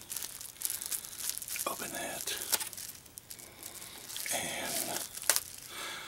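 Crinkly paper and plastic gift packaging is torn and crumpled up close in several bursts, with a faint voice speaking briefly.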